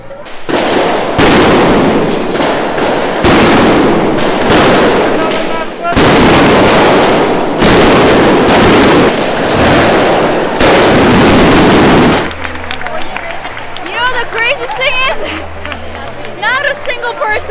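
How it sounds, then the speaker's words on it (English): A mascletà firecracker barrage at Las Fallas in Valencia, Spain: rapid, deafening volleys of bangs in dense bursts, followed by crowd hubbub and chatter as the explosions stop. "Another mascleta for tomorrow."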